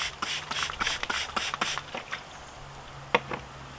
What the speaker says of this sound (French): je pulvérise